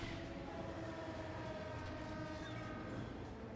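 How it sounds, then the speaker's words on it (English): A continuous low rumble of a moving train in the video game Cars 2 with faint tonal whine, steady and moderately distant throughout, with no voices. "I hear the train, but he's not coming."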